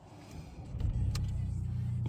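A Volkswagen Passat with an automatic gearbox starts up, a short cranking whir catching into a steady low engine idle that runs on close by.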